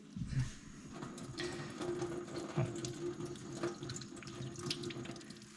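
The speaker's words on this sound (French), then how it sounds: "Le tout, c'est de bien rincer parce que effectivement là-dedans, il y a plein de choses" Squid being rinsed under a running kitchen tap, a steady close rush of water splashing into a sink that lasts the whole time, with no talking.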